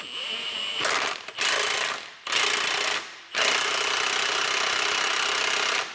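A spring compressor tool is run to squeeze a car coil spring at a Grand National's lower control arm, loud harsh mechanical rattling in three bursts separated by short pauses, close up and with no talk.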